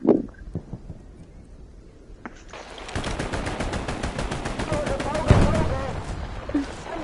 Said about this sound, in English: I just went in there and dropped a full mag into him